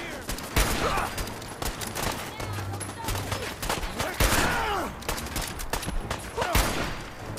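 Fallout 4 gunfire: rapid, dense shots in overlapping bursts, mixed with whooshing effects and the low rumble of combat throughout, with a voice speaking briefly.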